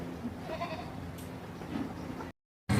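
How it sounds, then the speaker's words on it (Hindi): A goat at a livestock market bleats several times in wavering cries over a low background murmur, before a brief cut to silence and a final burst of noise. "ये मेरे पास एक टापरी की बकरी है गुलाबी में।"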